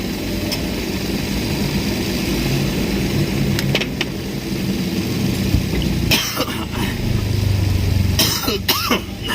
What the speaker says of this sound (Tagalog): May ubo pa.